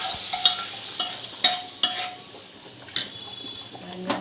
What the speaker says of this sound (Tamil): அங்கேருந்து குழம்பு ஒரு 2 கரண்டி அளவுக்கு இங்கே ஊற்றி தாளித்து விட்டுற வேண்டியதுதான்